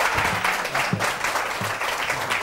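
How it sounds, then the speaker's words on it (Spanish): Studio audience applause at a Spanish-language variety show, a steady dense wash of clapping that fills the whole stretch at even loudness, with a few faint voices mixed underneath. "Un aplauso más fuerte, por favor."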